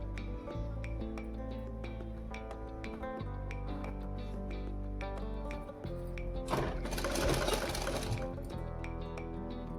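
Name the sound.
sewing machine stitching salwar fabric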